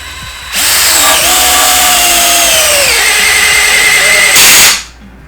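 Power drill spinning counterclockwise at its fastest speed to loosen a fastener during a small-block Ford engine swap on a Fox Body car, a steady loud whine with a brief pitch drop midway and a sharper burst before it stops.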